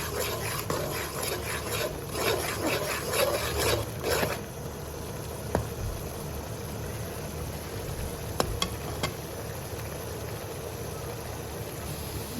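Steady close sizzle of peas and carrots frying in a pan with coriander powder and garam masala, broken by scraping stir strokes early on and a few light clinks of the spoon against the pan.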